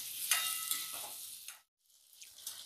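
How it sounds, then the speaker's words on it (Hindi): Onions and chopped potatoes fry in a pan with a faint, close hiss that cuts out briefly partway through, then resumes more quietly. "इसे हम प्याज के साथ ही आलू को भी भून लेते हैं"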